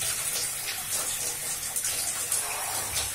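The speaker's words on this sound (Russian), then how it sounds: "Включил воду я." Water runs steadily from a tap into a bathtub, set to warm, a continuous close hiss and gush that carries on without a break and without any speech.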